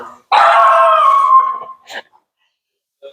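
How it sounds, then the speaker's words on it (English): A small dog lets out one loud, close, drawn-out howl, then a brief yip and a faint short whimper, with no talking over it. "Little dog."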